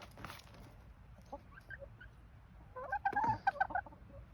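Pet backyard birds, apparently turkeys or chickens, call close by with scattered soft clucks that build into a louder burst of gobbling calls near the end.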